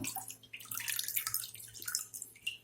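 Water drains and drips off chicken that has marinated for four hours, a faint, close patter of small drips for a couple of seconds.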